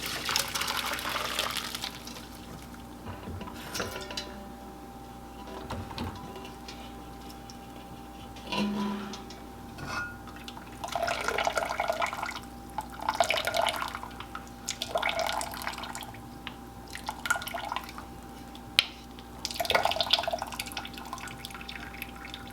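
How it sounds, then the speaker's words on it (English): Steeped flower blooms are drained to collect their liquid, giving irregular splashes, trickles and drips that come in short bursts over a quiet background. "once I've finished draining out the blooms, I've ended up with about 4 cups of liquid"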